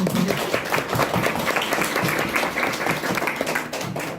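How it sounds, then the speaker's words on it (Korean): An audience gives sustained applause for two guests at a Korean talk event on independence activists' descendants. The clapping is steady and dense throughout, with faint voices underneath. "두 분 선생님께 큰 박수 한번 드리겠습니다"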